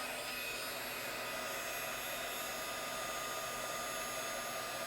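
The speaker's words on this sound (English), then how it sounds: "And then we just heat emboss that." A heat embossing tool blows hot air over gold embossing powder on vellum, a steady, even whoosh of fan noise that holds constant from start to finish with no talking.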